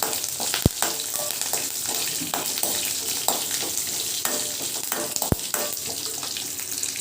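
Curry leaves crackle in hot oil in a tempering for tamarind rasam, a steady dense sizzle with occasional sharp pops and the clink of stirring.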